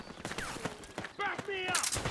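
Gunfire in the video game Metal Gear Solid 4, rapid bursts of shots in close succession mixed with shouted voices.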